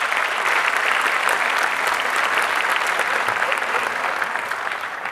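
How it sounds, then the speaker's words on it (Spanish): Sustained, dense applause from a large audience at the welcome ceremony of the Semana Nacional de Gastroenterología congress in Puebla, 2017, honouring the congress directors. It holds steady and loud throughout and eases slightly at the end. "para quienes solicito un aplauso"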